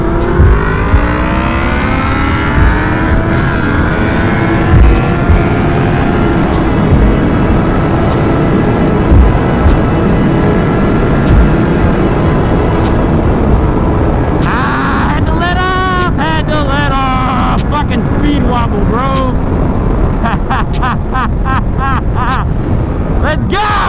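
A Yamaha R1 sport motorcycle without a steering damper ridden hard at speed, its engine roaring loud and close with rising and falling revs and wind rush, while a rider talks over it.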